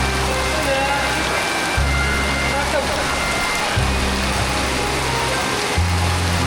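Rain falls outdoors during a group outing, a dense, steady hiss of drops spread evenly throughout, with low rumbling thumps recurring underneath.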